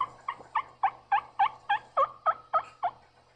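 A wild turkey in South Carolina sounds about eleven quick, evenly spaced calls in a steady series, clear and fairly close in a quiet outdoor setting, with no talking.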